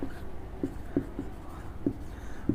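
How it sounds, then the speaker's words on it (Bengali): A sentence is written on a board, with short scratchy strokes tapping out in an irregular rhythm, close and fairly quiet. "এখন আমি একটা বাক্য লিখলাম"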